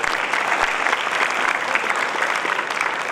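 A big round of applause for the chief guests at a Youth Festival chairman's address, a loud, dense crowd clapping that stays strong and even throughout.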